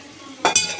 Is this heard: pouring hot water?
no